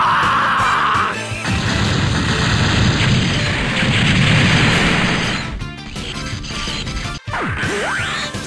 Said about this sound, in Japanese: 爆発する。